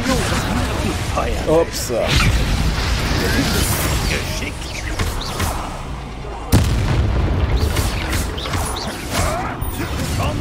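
A Confringo blasting spell in Hogwarts Legacy goes off as one sharp, loud blast partway through, amid ongoing rumbling game noise, with someone talking around it.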